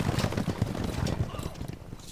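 Rhythmic hoofbeats of horses trotting in Stronghold Crusader, a steady clip-clop with faint background voices and battle ambience.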